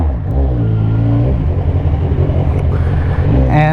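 A 2015 Kawasaki Z1000 motorcycle engine running loud and close on a street, a steady deep throbbing rumble with slight swells in revs and no talking.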